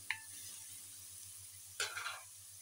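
Onion sautéing in a pan with pepper and salt gives two brief, faint bursts of sizzle and stirring, separated by near-quiet, with no voices.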